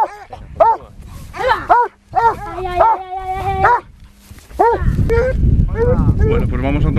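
A hunting dog competing on a wild boar trail gives repeated loud, close barks and yelping bays in uneven bursts, some drawn out into howls, with rustling and movement noise near the end.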